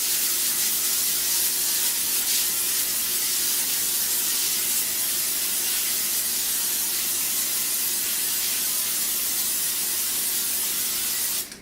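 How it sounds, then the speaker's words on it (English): Cooking spray hisses in one continuous, close burst onto a perforated pizza pan, holding steady for about eleven seconds before cutting off abruptly. "So we're going to spray it."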